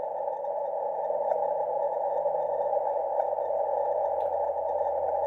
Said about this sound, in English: that's actually a longer pulse, but because I've got the CW filter on,